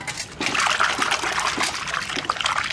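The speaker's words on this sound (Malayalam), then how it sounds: "നമ്മളൊരു 3-4 വെള്ളത്തിൽ നല്ലപോലെ അങ്ങ് കഴുകിയെടുക്കണം" Half a kilo of sardines, rubbed with salt, is washed by hand in water. Close trickling and splashing start after a brief pause and carry on steadily.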